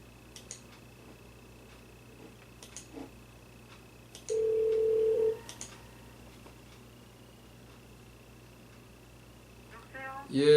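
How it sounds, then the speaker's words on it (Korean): A landline telephone tone sounds once in a church setting, a steady beep lasting about a second against faint room noise, with scattered clicks before it and a brief burst of sound at the end. "전화로 연결을 좀 하겠습니다."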